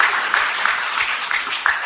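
A short burst of applause from the audience at a Bait Bazi Urdu poetry recitation competition in Aurangabad, moderately loud and steady with a few sharper claps standing out.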